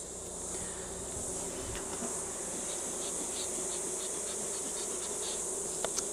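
Honeybees shaken from a frame into a flow frame hive box make a steady, dense buzzing hum that fills the whole stretch, with a few faint knocks and taps of equipment near the end and no talk.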